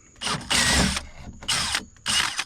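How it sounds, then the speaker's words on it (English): A power drill bores holes into a 2025 Tracker Panfish 17 boat, three close, loud bursts of whirring drilling separated by short pauses. "I'm already drilling 4 holes in it."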